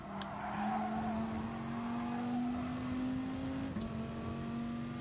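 A racing car engine in GT Sport holds a steady rising drone that drops in pitch at a gear shift, with some tyre noise from wheel spin, loud and continuous with no voices.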